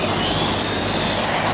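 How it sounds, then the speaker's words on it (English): A Ramraider RC car on a newly fitted brushless motor gives a dense, steady motor whine and drivetrain roar at full throttle, loud and close, with no pauses. "So, for the first time on Brushless, let's send it."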